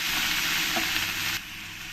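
Onions with a spoonful of salt sizzle steadily in oil in a pan, a dense close hiss that drops slightly in level partway through, with no talk over it.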